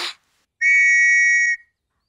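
A toy whistle in a British cartoon gives one clean, steady, high-pitched blast lasting about a second, heard alone after a brief noise.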